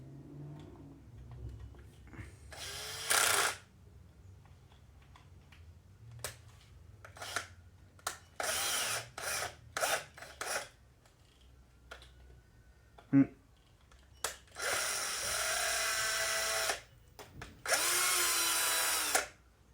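A power drill tightens a screw on a Redcat Blackout RC car with a flexing plastic chassis, in several loud, close whirring bursts of a few seconds each, separated by quieter handling clicks and rattles.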